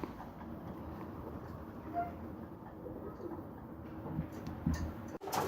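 Racing pigeons in a loft at feeding time give faint, low coos against a busy, rustling background. A few clicks and knocks are heard near the end.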